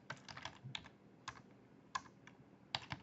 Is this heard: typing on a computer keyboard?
yes